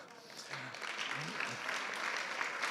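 An audience at an education conference gives faint, distant applause that builds slightly over a few seconds, with quiet voices underneath.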